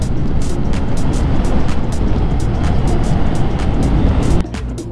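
Suzuki Smash 115 Fi motorcycle straining uphill on Mount Samat, a loud, steady, rough engine drone under wind rush that suddenly eases near the end.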